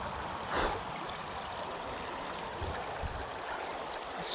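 A river flows in a tree-lined stretch used for fly fishing wild brown trout, giving a steady, even wash of rushing water with no voices.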